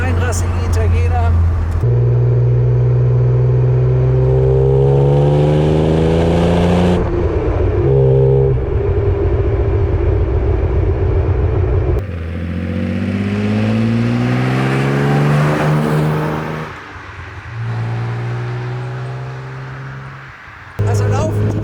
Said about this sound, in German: Er hat einen schönen kernigen Sound, so wie sich das gehört für einen reinrassigen Italiener.